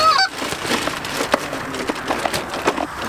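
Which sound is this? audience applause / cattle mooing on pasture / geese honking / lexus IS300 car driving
geese honking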